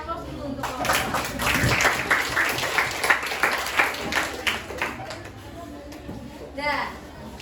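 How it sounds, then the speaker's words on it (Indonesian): Classroom applause for a student group, a scattered burst of clapping from children mixed with chatter and a teacher's voice speaking over it. "Dah, kasih aplaus dulu untuk kelompok satu."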